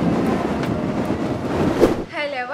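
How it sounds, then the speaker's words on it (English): Strong wind gusts across the Musandam coast, a loud, steady buffeting rush for about two seconds before it drops away and a voice begins to speak. "The wind is getting stronger and stronger."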